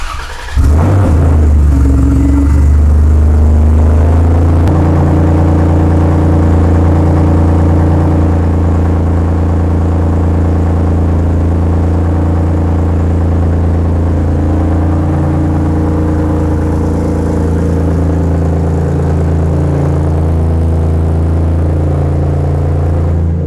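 A 2016-2023 Toyota Tacoma fitted with a turbo kit and running with no exhaust pipe rumbles loud and close, settling after startup into a steady, heavy idle with a deep droning tone throughout.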